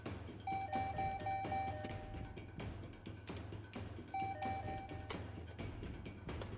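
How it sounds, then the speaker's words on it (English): A doorbell rings frantically in a Higurashi: When They Cry Hou+ visual novel scene, two bursts of rapid repeated electronic chimes separated by a short pause, set against a low ambient background. "Suddenly, our doorbell began ringing frantically."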